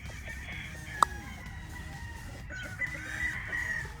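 A Golden Boy brood stag rooster crows once near the end, a clear strained call over quiet farmyard background noise, with one sharp knock early on and no voices.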